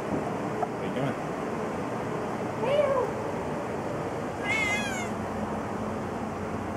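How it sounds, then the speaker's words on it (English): A cat meows twice, a drawn-out mew followed a couple of seconds later by a higher, wavering one, over steady broadband background noise. "Meow. He's the weirdest cat."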